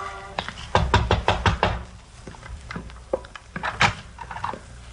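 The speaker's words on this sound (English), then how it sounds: "I walked around back and knocked on the door." Knocking on a back door at night, a run of sharp, loud raps in quick groups, then softer scattered taps and thumps, all close by with no talk over them.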